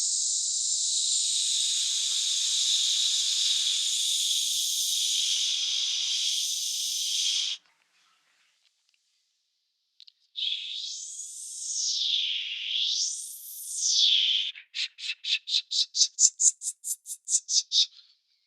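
Soloed sibilant S sounds pulled out by an Espresso de-esser plugin on iPad: a steady bright hiss for several seconds, a pause, then wavering sibilant sweeps and a rapid train of short hissy bursts, alone with no voice.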